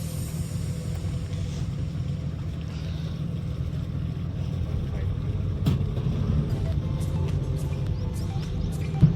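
Moving boat on the water in Konkan with an engine droning in a low steady rumble, moderate and continuous, a few sharp knocks and clicks near the end.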